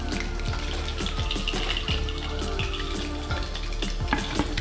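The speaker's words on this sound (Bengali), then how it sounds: "মিটবলটা আমার হয়ে গেছে, এটা ফ্রাই করতে আমার 2-3 মিনিট টাইম লেগেছে" Chicken meatballs fry steadily in a hot pan, a dense, continuous sizzle and crackle of oil with occasional pops, close and loud with no voices.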